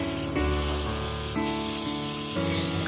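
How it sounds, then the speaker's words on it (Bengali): Vegetables and lentil dumplings (bori) fry in a pan with a steady, close sizzle, while brief stirring scrapes break in at intervals. "তারপরে ভালো করে জাস্ট ভাজতে হবে সমস্ত সবজিগুলোকে বড়ির সাথে"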